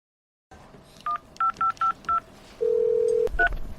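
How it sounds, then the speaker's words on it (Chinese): A telephone number is dialed on a keypad, with a string of short touch-tone beeps in an uneven rhythm, a longer sustained tone, then one more beep, close and clear. "我现在就给他打电话"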